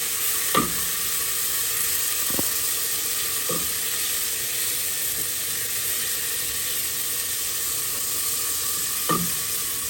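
Chopped garlic sizzles in hot oil in a pan, a steady close hiss and crackle with a few faint clinks of stirring, and no talk over it.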